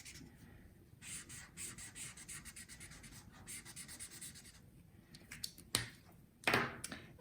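Red marker rubbing over the waxy tip of a crayon, a soft dry scratching in short, uneven strokes with a few sharper taps near the end.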